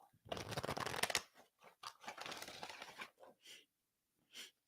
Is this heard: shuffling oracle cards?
yes